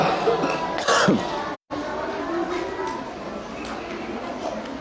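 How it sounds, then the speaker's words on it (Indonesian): A single cough near the start, followed by a brief pause and quiet ambient room noise, with a voice faintly audible. "ini batuk oleh-oleh Mekah masih."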